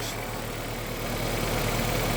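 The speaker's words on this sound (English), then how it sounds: "Super quiet on the engine, starts up straight away when cold" The engine of a 1995 Ford Escort RS Cosworth idles with a low, steady rumble and a smooth, quiet, even beat, heard close by with no talking.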